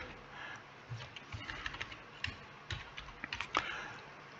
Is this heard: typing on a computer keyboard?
yes